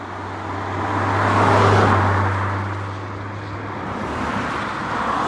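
A BMW Z4 M140i purrs past on the road, its low engine hum swelling as it approaches, peaking close by, then fading away, with faint traffic noise behind.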